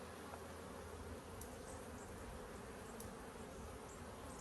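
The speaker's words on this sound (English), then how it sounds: "Stop it, you rude bees!" Honey bees swarming around an opened hive during an inspection, a dense, constant buzzing close to the microphone, steady and unbroken with no talking.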